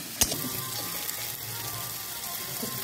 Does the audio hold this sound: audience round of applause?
no